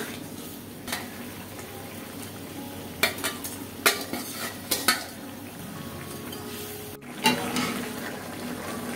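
Fish cooking with radish greens in a pan, a soft continuous sizzle punctuated by several sharp clinks and scrapes of a metal utensil against the pan, close and without talking.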